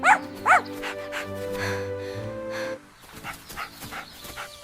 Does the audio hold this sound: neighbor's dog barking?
yes